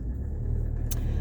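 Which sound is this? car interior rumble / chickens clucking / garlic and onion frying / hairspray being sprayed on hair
car interior rumble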